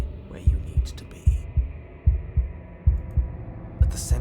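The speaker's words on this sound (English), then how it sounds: "a wooden and fleshy heart beating with an unbroken rhythm" A wooden and fleshy heart beating in the video game Slay the Princess: steady, unbroken low thumps in pairs, loud and close over a dim hum, with a few faint higher sounds.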